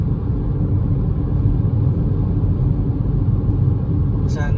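Heavy road traffic during busy hours in Calgary, Alberta, heard from inside a vehicle as a constant low rumble and engine drone, with a brief voice at the very end.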